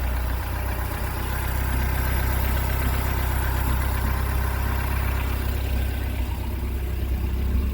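A Mercruiser 3.0 TKS boat engine with an automotive carburetor kit idles steadily after warming up, running on a hose, a continuous low rumble with constant loudness throughout and no talk.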